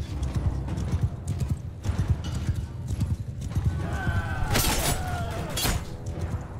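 A horse gallops in the medieval combat video game Mount & Blade II: Bannerlord, with rapid, loud clip-clopping hoofbeats and a whinny partway through. Battle noise, including a shattering crack, sounds behind the hooves.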